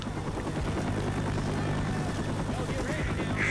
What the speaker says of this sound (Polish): Leć helikopter.